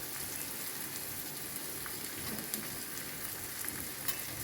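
Curry leaves, coriander, mint and carrot are sautéed lightly in a pan, producing a soft, even crackling sizzle with a few faint stirring taps.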